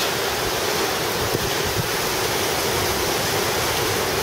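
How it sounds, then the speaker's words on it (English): Heavy rain pours and wind roars steadily outside a cow barn, a dense continuous rushing wash with no break and no voices. "It rains. It pours."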